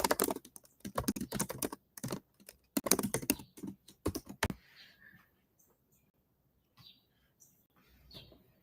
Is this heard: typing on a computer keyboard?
yes